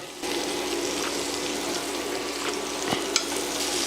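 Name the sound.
butter melting and frying in pan with garlic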